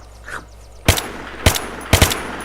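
A gun with a 100-round drum magazine firing in the video game Unturned, three loud, sharp shots or very short bursts spaced about half a second apart, close and alone after a brief faint sound.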